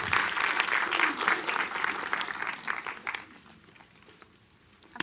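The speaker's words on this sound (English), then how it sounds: "Everybody give Kaet a round of applause." A room's worth of people clapping during a church talk event, loud and dense at first, then thinning and fading into scattered claps and near quiet over about five seconds.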